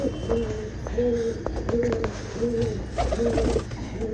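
Pigeons coo close by in repeated rolling calls, roughly one every half second, clear and fairly loud over a low background hum.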